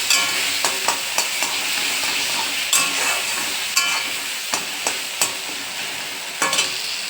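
Panch phoron spices sizzle steadily in hot oil, a loud continuous frying hiss broken by frequent sharp crackles and pops, with occasional stirring scrapes.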